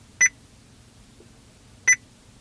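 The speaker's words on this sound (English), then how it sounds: "I don't want that beep" A Joying car stereo head unit gives two short, high electronic beeps roughly 1.7 seconds apart, each clean and sharp against a quiet background.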